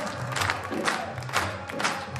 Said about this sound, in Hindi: तो तालियां बजाओ बस